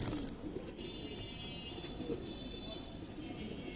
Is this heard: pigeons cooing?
yes